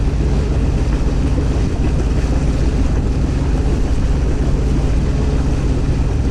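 A Yanmar 3GM 30F marine diesel drones steadily aboard a small boat, a dense continuous rumble mixed with water and wind noise throughout, with no breaks and no voices.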